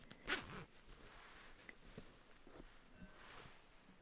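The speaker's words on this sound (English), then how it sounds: "Oh, cute little leather zipper." A leather-tabbed zipper on a sheep's wool and cashmere blend sweater is zipped quickly once at close range, then quiet fabric rustling and soft handling noises follow.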